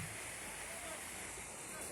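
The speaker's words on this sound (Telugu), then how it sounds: "నిజంగా పక్కనే వాటర్ ఫ్లో" Water rushes steadily nearby at Madhugiri Falls, a continuous broadband roar of a waterfall filling the whole stretch without pause.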